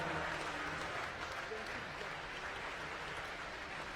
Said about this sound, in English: a round of applause for your medal winners in the women's multi-classification 100 meters butterfly